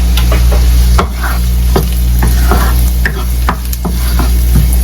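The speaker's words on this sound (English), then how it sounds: "we are also adding the onion" Onion stir-fried in a hot pan for bihon rice noodles, a loud close sizzle broken by repeated sharp scrapes and clanks of a utensil against the pan in an uneven rhythm.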